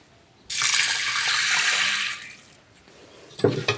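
Running water splashes into a bowl as lentils are rinsed for sambar, a loud steady gush for about a second and a half that tapers off, followed by a brief sloshing pour as the water is drained.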